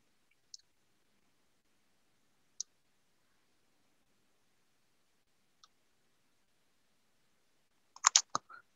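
Sparse mouse clicks at a computer while saving a document in UiPath Document Understanding, a few isolated single clicks followed by a quick cluster of louder clicks near the end, faint and close with silence between.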